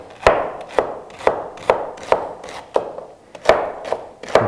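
A knife chops celery for chili in about ten crisp, evenly spaced strokes, each a sharp close thud with a brief ring, with no voices.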